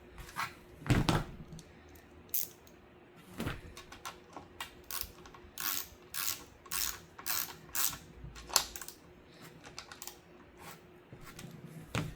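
A ratchet tightens a 10mm bolt on the panoramic sunroof rail of a 2017 Mercedes-Benz C300 (W205), giving a run of close, sharp clicks in uneven short bursts with small mechanical knocks between them.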